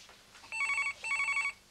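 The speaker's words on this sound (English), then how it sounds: "Sorry, phone's ringing." Two bursts of an electronic telephone ring, each trilling for about half a second with a short pause between, fairly clear against a quiet background.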